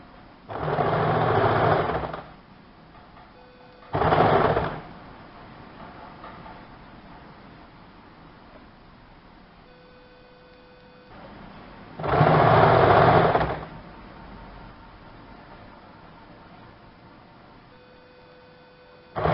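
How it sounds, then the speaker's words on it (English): Sewing machine stitching along the pleats of a semi-Patiala salwar, running in three bursts of a couple of seconds each, with quiet pauses between them and no talk. "Now we are stitching the another side."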